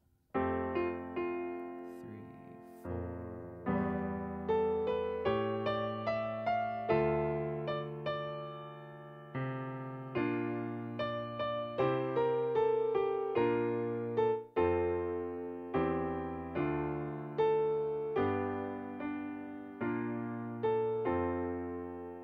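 Piano playing a song with both hands, a left-hand bass line under the melody, steady repeated chords and notes at moderate tempo, close and clear with no talking.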